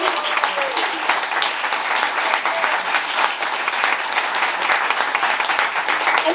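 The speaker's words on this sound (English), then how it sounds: "Can we have another big round of applause" An audience at a children's book prize event in the Waterstones Piccadilly bookshop claps enthusiastically, a dense, steady applause that holds at full strength throughout.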